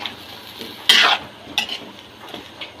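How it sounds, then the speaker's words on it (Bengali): Papaya curry with green chilies being stirred and sautéed in a pan: a loud scraping burst of the spatula near the start, then softer stirring scrapes over a faint sizzle, with no voices. "তো এটা কিন্তু ভালো করে কষিয়ে নিতে হবে, কষানো হতে থাক।"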